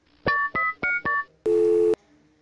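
Four short electronic telephone beeps in quick succession come before a longer, steady buzzing tone as a call is connected, clean and close with no talking.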